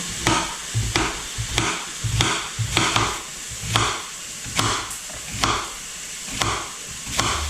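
A knife slices zucchini steadily on a cutting board, crisp cuts coming in an even rhythm about twice a second, close and fairly loud, with no voices.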